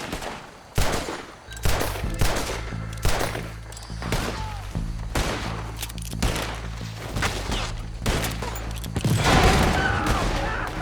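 Red Dead Redemption 2 shootout with rapid, repeated gunshots cracking and booming in dense bursts, some near and loud, others overlapping in a continuous fusillade over a low background rumble.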